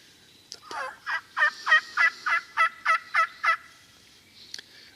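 A wild turkey hen yelps on the ground with other birds nearby: a run of about nine evenly spaced, clear yelps close by, framed by a couple of sharper notes at the start and end, with no talking.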